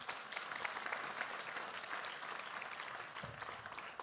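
An audience at an evening talk on Generation Y and wine applauds steadily as the general delegate of Vin et Société is introduced. Dense, even clapping fills the whole stretch with a slight low murmur near the end.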